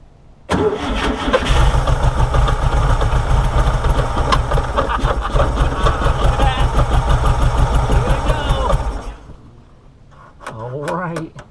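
A 1966 Volkswagen Karmann Ghia, parked since 1984, cranks and catches, its engine running loud and close for about eight seconds with a rough, uneven rhythm before cutting out; a voice speaks briefly afterward.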